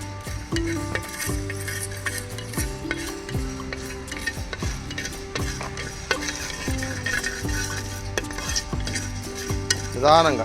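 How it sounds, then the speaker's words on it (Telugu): Fenugreek, cumin and coriander seeds dry-roast in a pan, with a spoon scraping and tapping rhythmically against the metal over a faint sizzle. "1/2 టేబుల్ స్పూన్ మెంతులు, 1/2 టేబుల్ స్పూన్ జీలకర్ర. ఈ మొత్తం 1 నిమిషం దోరగా వేయించుకోవాలి."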